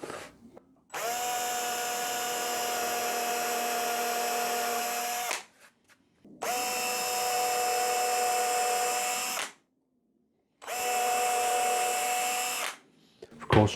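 An electric drill drives a 2.5mm bit into wood on a Rickenbacker 620/12 guitar build to make screw holes, three sustained high whining bursts separated by short pauses, loud and close.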